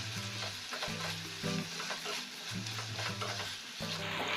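Fried paneer tossed into chilli sauce in a hot pan: a steady close sizzle with stirring scrapes, running alongside a rhythmic background music bed throughout.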